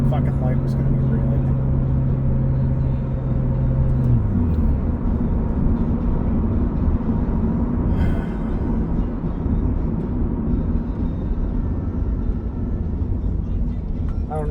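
Interior of a moving 5-speed V6 Toyota Camry, with a continuous loud engine and road drone, one tone dropping in pitch early as the car shifts or slows, and a steady rumble throughout.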